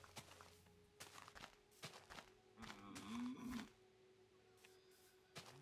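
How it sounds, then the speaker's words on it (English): A cow moos in the video game Minecraft, one drawn-out, low, wavering moo in the middle, fairly quiet, amid scattered clicks and block-placing taps. "Alright, Mr. Cow."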